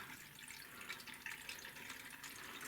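Water is poured over green tomatoes being pickled in a container, a faint steady splashing trickle that runs without a break and sits at a low, close level.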